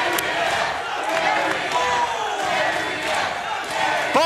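A wrestling crowd at a PWX Wrestling event cheers and rises to its feet, a continuous wash of shouting and whooping that swells in waves for several seconds.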